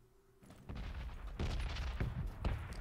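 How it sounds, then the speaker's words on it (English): An enemy player's gunfire in a video game arrives as a few loud, sharp shots spaced roughly half a second apart over a rumbling, noisy backdrop. "there's a guy shooting at me"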